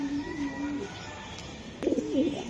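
A racing pigeon coos softly nearby in a few low, rolling calls, with a brief louder burst of cooing near the end over faint background noise; no one speaks.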